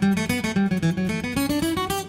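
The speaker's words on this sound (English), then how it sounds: "That's like you're gripping the pick too hard, and it makes the whole guitar sound choked." Martin D-28 acoustic guitar picked with an overly tight grip for a choked, cramped tone: a quick run of close, loud single notes stepping upward in a steady rhythm, with no voice.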